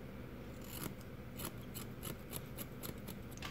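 Small scissors snip repeatedly while trimming the fringe of a guinea pig's coat. The cuts come as close, soft, regularly spaced metallic clicks over a low steady background hiss, with no talking.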